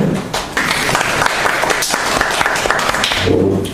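Audience at a workers' political policy discussion meeting applauds to welcome the presenter: loud, close, steady clapping from a packed room, with a voice starting to speak as it ends.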